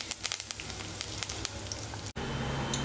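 Curry leaves drop into hot oil for a brinjal dish and sizzle steadily and loudly, with crackling pops throughout and a brief break near the end.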